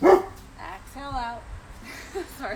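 A dog barks loudly once close by at the start, then gives a few softer yips and whimpers while a voice leads a chair yoga session.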